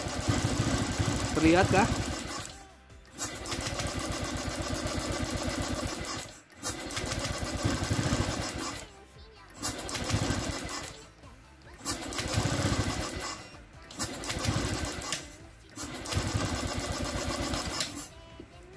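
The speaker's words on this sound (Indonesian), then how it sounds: "Langsung kita pencet starter saja." A Honda Scoopy fi scooter with a faulty, current-leaking ignition coil is cranked with its electric starter, giving repeated bursts of whirring, sputtering engine noise separated by short pauses, with a brief spoken question near the start.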